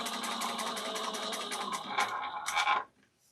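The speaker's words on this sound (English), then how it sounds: "I'm just chain stitching" A sewing machine chain-stitches fabric connectors for a Nora bag, a steady close whir with rapid even stitch pulses for nearly three seconds, a brief pause and short final burst before stopping.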